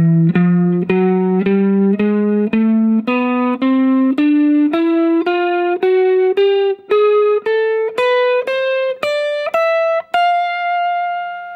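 Single distorted electric guitar notes climb steadily up a Mixolydian blues hybrid scale in D, about twenty evenly picked tones rising in pitch, loud and close, ending on a held note.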